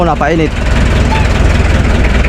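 A steady low boat engine rumble idles continuously as it warms up for a sea trial, loud and close, with a brief voice at the start.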